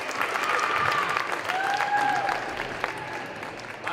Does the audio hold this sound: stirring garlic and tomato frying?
no